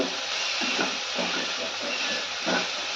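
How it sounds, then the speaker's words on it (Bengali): Potatoes frying in a pan, a steady loud sizzling hiss with soft stirring knocks now and then, close up and with no talk. "কুদরিতে আলুতে ভাজা করছি"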